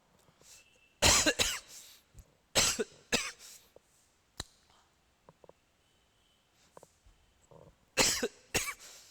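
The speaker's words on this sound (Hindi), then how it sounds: "हाय खांसी आ गया यार" A man coughs in a series of harsh bursts, pauses, then coughs again, with faint throat-clearing noises and quiet stretches between fits.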